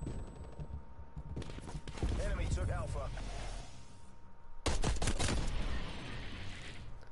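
Gunfire from a gun in the video game Call of Duty Cold War, bursts of shots mixed into a busy game soundscape while players talk excitedly over it throughout.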